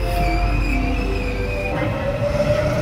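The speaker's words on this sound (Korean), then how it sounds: "2023년 12월 16일 연장 개통한 연천행 열차가 들어오고 있습니다." A Line 1 commuter train bound for Yeoncheon pulls into a station, its wheels squealing loudly and continuously over a heavy rumble, close and with no pauses.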